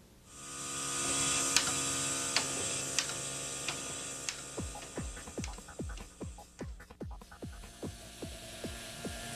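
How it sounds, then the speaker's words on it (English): An automatic vacuum seeder sowing seeds runs with a steady mechanical hum, then a fast series of sharp, evenly spaced clicks and taps builds up and continues close by, with no one speaking. "The larger automatic vacuum seeders allow a commercial grower to rapidly sow vast quantities of seed."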